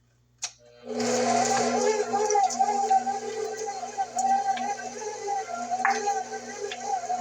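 An electric stand mixer runs in first gear, beating cream cheese for a pecan cheesecake, with a steady motor whine and churning that starts after a click and continues under a speaking voice.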